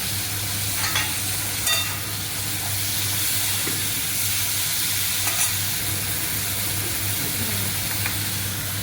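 Chopped tomato and ginger fry in a pan for a vegetable curry, giving a loud, continuous, close hiss and sizzle with a few faint clinks of stirring throughout.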